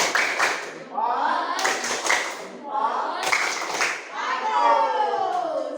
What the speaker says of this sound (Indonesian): Ayo anak-anak, tepuk jempol.